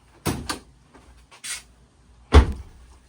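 A car door on a custom hot-rod build is worked and shut: a few sharp knocks and softer clicks, then one heavy, close slam near the end, with quiet pauses between.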